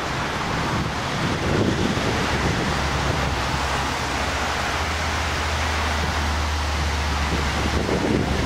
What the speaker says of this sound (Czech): Zvedá se vítr, ale je teplo.